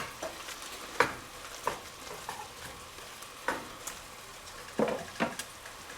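Garlic stirred into a pan for a mushroom lemon sauce, with scattered scraping strokes and light clinks over a faint, steady sizzle, close up and without talk.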